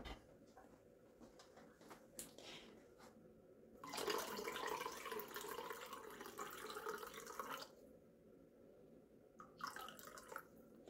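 Water running from a kitchen tap for a kalb elouz almond pastry recipe, a soft steady flow that swells louder for a few seconds midway, with scattered drips and small clatters around it.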